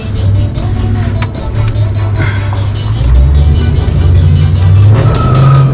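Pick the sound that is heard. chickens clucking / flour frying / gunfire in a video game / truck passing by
truck passing by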